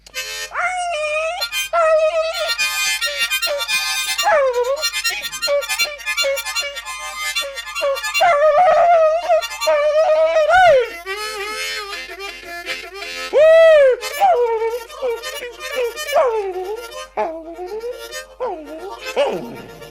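A harmonica imitating dogs in a fox chase wails and bends in yelps, whines and howls like a pack of baying hounds, played alone in long expressive phrases.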